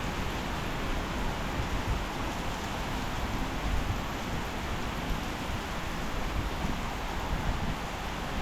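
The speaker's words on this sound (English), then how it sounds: "I do love the rain. It's so relaxing hearing it bang off rooftops and stuff." Rain falls steadily on rooftops as a dense, even hiss, loud and continuous throughout with no pauses and no talking.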